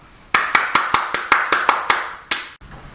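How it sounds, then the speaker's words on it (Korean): A church congregation claps in welcome for a pastor: about a dozen sharp, evenly spaced claps in a quick rhythm, close and clear, then an abrupt stop. "이 시간 나오실 때 큰 박수로 환영해 주시면"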